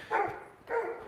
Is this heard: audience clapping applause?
no